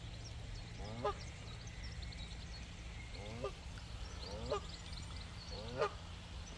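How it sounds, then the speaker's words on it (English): Male mallard ducks quack a few times from some distance at a pool, the calls spaced out over a steady outdoor background hum. "Couple of mallards over there,"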